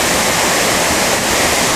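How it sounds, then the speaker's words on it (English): Hot pasta water from cooked macaroni noodles is poured from a pot into a dish at a backpacking camp, making a loud, continuous close rush of splashing liquid. "we gotta strain out some of this water into this dish"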